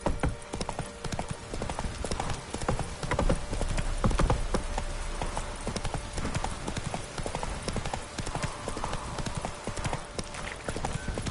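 Roach the horse gallops in a video game, a steady rapid clip-clop of hooves running continuously and fairly close over a dense ambient background, with a faint voice briefly present.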